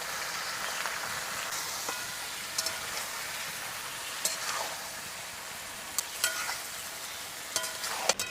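Raw mango pieces fry with salt and turmeric in a pan for a village-style pickle, giving a steady close sizzle broken by a few sharp clicks of a stirring spoon, with no voices.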